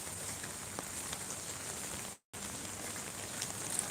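Steady rain pouring over flooded streets in Dhaka, a dense even hiss of falling water with a brief dropout midway, no voices.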